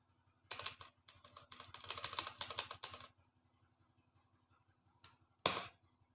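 Quick bursts of computer keyboard typing while working in MS Word, including a Ctrl+Enter press, come close and crisp, followed by a pause and two isolated sharp key presses near the end.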